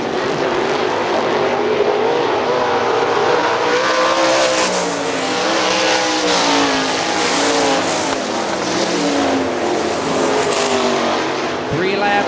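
Sprint cars race at Hartford Speedway Park, engines roaring loud and continuous as the pack circles the dirt oval, with a public-address announcer talking over the noise.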